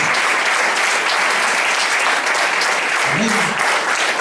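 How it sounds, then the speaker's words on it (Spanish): A church congregation at a Spanish-language worship service applauds for the Lord, loud continuous clapping filling the room, with a brief voice rising through it near the end. "¿Cuánto le dan un aplauso al Señor?"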